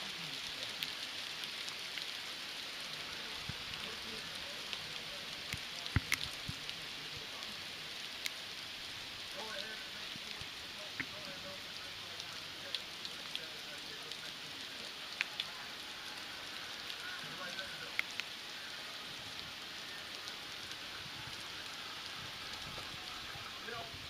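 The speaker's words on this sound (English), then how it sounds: "It's sunny out and it's hailing." Hail falling on a sunny day in a November hailstorm, a faint steady patter with scattered sharper ticks of hailstones striking nearby surfaces, heard alone at low level.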